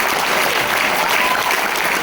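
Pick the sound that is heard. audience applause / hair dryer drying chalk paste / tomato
audience applause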